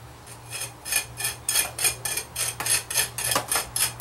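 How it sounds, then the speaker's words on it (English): A comb-like scratcher tool rakes across wet stucco in steady repeated strokes, giving a rhythmic gritty rasp, close and moderately loud with no talk. "What I'll do is I'll take my scratching tool. It's a scratcher, it looks like a comb."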